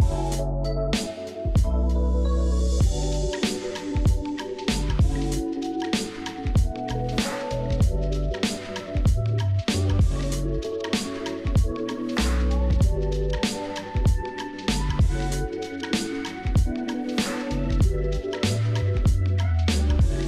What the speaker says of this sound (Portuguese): bora lá começar a pegar água e colocar no aquário